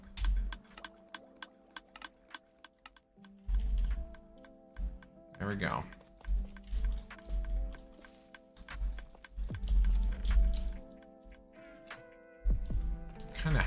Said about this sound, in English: Sorry about the clicking.